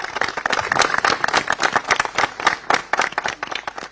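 A crowd claps in honour of Baba at a gathering, producing close, dense, uneven bursts of hand claps that continue throughout without talk.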